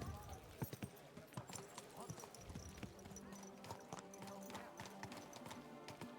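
Hooves of a horse in the video game Kingdom Come: Deliverance II clip-clop steadily on a hard city surface, close by, with a busy ambient background and no speech.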